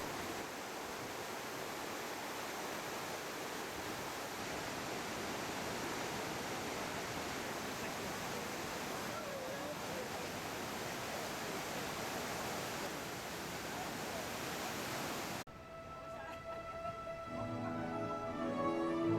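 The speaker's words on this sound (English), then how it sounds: "some to the river, which is fed by the Storfossen waterfall" A steady, roaring rush of the Storfossen waterfall in Norway fills most of the stretch, then gives way abruptly to quieter, different ambience near the end.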